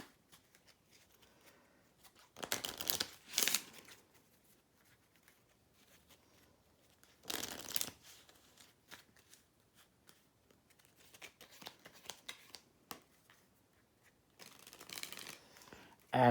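Playing cards for the board game Triumvirate are shuffled in three short, separate riffling bursts, with quiet card handling between them.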